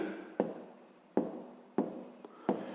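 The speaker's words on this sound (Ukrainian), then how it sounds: "Давайте таки записуємо." A pen scratches on paper while a fifth-grade maths exercise is written out, making four distinct, evenly spaced strokes that each fade quickly.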